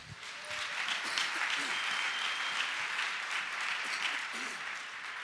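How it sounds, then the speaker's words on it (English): A church congregation claps their hands together, a steady moderate wash of many hands clapping throughout, with faint voices mixed underneath. "Now clap your hands if you can."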